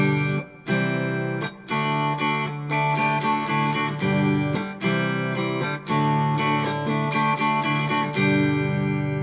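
A short-scale single-coil electric guitar on its bridge pickup plays strummed chords and single notes with brief pauses between phrases, clear and upfront, with no voices.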